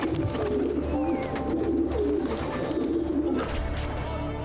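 Pigeons coo in Assassin's Creed, soft repeated throaty calls over a steady busy background of ambient game sound, with a brief higher chirp near the end.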